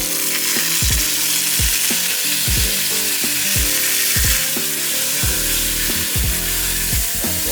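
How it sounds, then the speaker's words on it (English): Loud, steady sizzling of food frying in a pan, a dense hiss throughout with low thumps and clanks underneath. "Let's hear some of the sizzle action."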